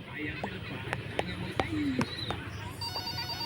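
A telephone rings inside the Night Shift Nurse video game, a repeated electronic ring pulsing at intervals over a background of murmuring voices and clicks, fairly faint in the mix.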